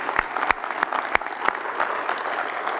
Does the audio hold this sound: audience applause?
yes